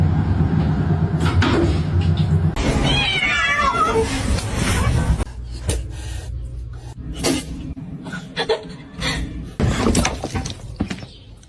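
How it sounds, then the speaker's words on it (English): A kitten meows several times in short, high, wavering cries between clattering knocks and a sharp crash, with a person talking now and then nearby. "Meowing."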